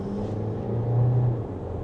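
Car in sport mode accelerating from second gear, a steady low engine rumble and drone heard from inside the cabin, swelling slightly mid-way with no talk over it.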